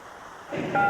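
Payphone keypad dialing in a radio ad, a short burst of touch-tone beeps rising out of faint background noise near the end.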